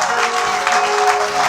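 A church congregation claps in a brief, dense burst of applause, with a faint sustained tone running underneath.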